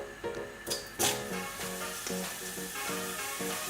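Steady crackling sizzle of watermelon frying in hot oil, with a few sharp pops and spatters, close and fairly loud throughout.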